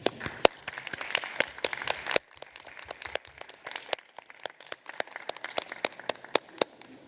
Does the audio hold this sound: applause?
yes